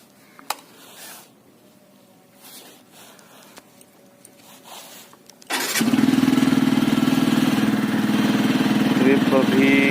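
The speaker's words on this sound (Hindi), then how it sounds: "थोड़ा गर्मा लेते बाइक को।" A motorcycle engine is heard after a few faint clicks and rustles. It catches with a sudden start about halfway through, then idles loudly and steadily as it warms up.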